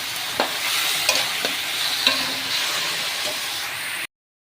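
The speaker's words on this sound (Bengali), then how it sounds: "দিয়ে আমি এবার এটাকে নাড়াবো ভালো করে।" Raw mango sweet pickle with jaggery and a little water is stirred in a pot, a close wet bubbling hiss broken by a few soft spoon knocks before it cuts off abruptly.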